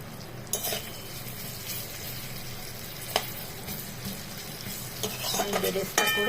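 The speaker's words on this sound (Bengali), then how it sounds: "আমি বেরেস্তা করে দেখাচ্ছি।" Onions sizzle steadily in hot oil in a wok while being fried for beresta, with periodic scraping and clinks of a spatula stirring against the metal.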